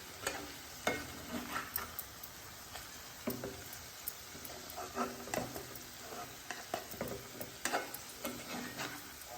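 Fish pieces being turned in a hot pan while cooking Andhra fish curry, with soft sizzling frying and repeated light scraping clicks of a spatula, close and quiet, no talk.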